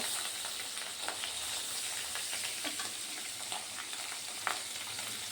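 Pabda fish frying in hot oil in a pan, a continuous, fairly quiet crackling sizzle with faint pops throughout and one brief louder clink near the end, no voices.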